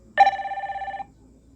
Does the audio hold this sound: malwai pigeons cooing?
no